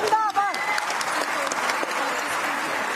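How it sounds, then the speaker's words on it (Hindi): Loud applause fills a women's conference rally in Panchkula, a dense steady wash of clapping from a large crowd after a brief shouted voice at the start. "जोरदार तालियां बहनों।"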